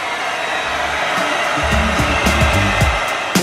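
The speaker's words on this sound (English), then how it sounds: "But Sean has upgraded the wood drying tool to a heat gun rather than my Revolution hair dryer." A heat gun drying wood blows steadily and loudly, whirring continuously like a hair dryer, with brief low tonal sounds layered over it.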